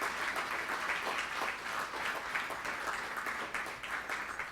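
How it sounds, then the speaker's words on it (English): Sustained crowd applause from a live debate audience, steady and dense with many hands clapping at once, holding at an even level throughout with no break. "let's give a round of applause to the leadership that we've got here"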